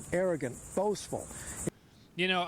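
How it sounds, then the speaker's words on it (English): Crickets chirp steadily as a faint high background hum picked up by a lapel mic, running beneath loud, close speech from someone talking. "we can hear the crickets chirping from a mile a"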